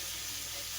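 Tempering of cumin in hot oil in a kadhai, a steady broadband sizzle and hiss that stays even throughout the brief moment.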